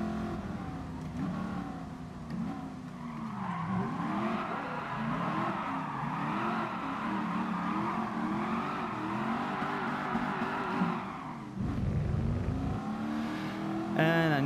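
Car engine in the GT Sport racing game revving and shifting through gears, with a steady, loud drone whose pitch rises and falls, tyre noise and a sudden low rumble near the end.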